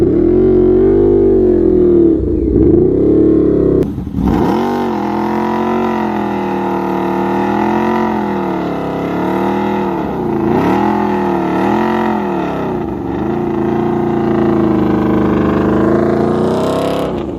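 Yamaha V-Max motorcycle engine revs loud and close through a roll-on, with a deep steady drone that rises and falls in pitch over repeated throttle swells, and no talk over it.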